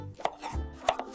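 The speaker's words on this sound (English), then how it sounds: "cat in kitchen chopping vegetables next to a rat" A knife chops vegetables in a kitchen in an AI-generated scene of a cat cooking beside a rat, giving a handful of crisp, uneven chops on a board, close and clear with no voices.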